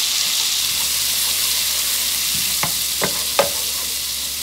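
Finely minced onion hits hot oil in a pan with a steady bright sizzle, and a few short clinks of a utensil stirring come near the end.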